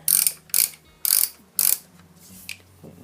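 A ratchet wrench with a hex head socket clicks in four quick bursts while loosening bolts on an FZS600 Fazer ignition switch, followed by a faint tap, close and loud with no talking.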